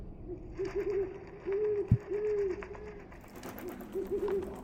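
An owl hoots several times in the hidden-object adventure game Haunted Legends 3: The Undertaker, soft rising coos in short groups with pauses between them, plus a single sharp thump partway through.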